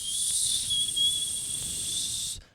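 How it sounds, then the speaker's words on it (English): A steady, high whistling wind sound rises as something circles faster and faster, part of a fantasy tabletop role-playing game session. It holds evenly for about two seconds with a hissing edge, then cuts off abruptly. There is no talking. "you start hearing in the wind a whistling sound"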